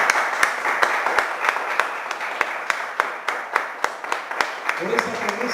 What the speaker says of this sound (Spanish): Entonces yo le daría un aplauso al Señor por eso.